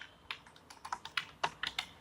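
Code is typed on a computer keyboard in quick, irregular bursts of crisp, close key clicks, with no talking over them.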